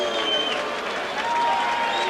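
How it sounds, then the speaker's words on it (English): A boxing arena crowd booing a unanimous decision, a loud, dense, sustained wash of voices with no break, filling the hall throughout. "and the crowd's booing."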